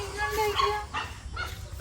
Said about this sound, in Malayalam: അതിന് ഈ പട്ടി കിടന്ന് കുറയ്ക്കണേ